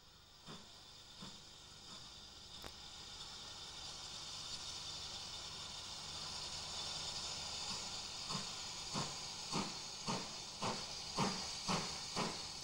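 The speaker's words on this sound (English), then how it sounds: "Departing at 9 in the morning, Fairborne 264 Tank 42235 hauled the special on the first leg of its journey." A Fairburn 2-6-4 tank steam locomotive, number 42235, hauls a special train, heard as a steady hiss of steam that builds into a regular rhythm of exhaust beats, growing louder and faster toward the end.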